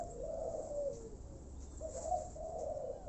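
Starlings call with soft, repeated mid-pitched warbling notes in a few short bursts over a steady low background hum, fairly faint and with no voices.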